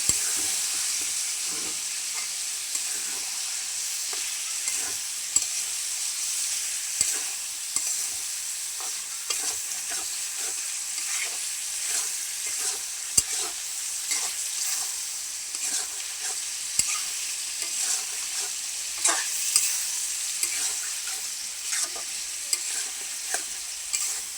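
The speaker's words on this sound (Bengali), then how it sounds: "ভালো করে আমি বটটাও কষাই নিব।" Beef tripe frying in a pan with a constant bright sizzle, while a spatula scrapes and knocks against the metal at irregular intervals, close up and with no voices.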